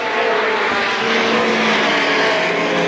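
A field of stock cars roars at the green flag of a 1987 feature race at Salem Speedway, a dense, loud, continuous engine wall that stays steady for about three seconds with no voices.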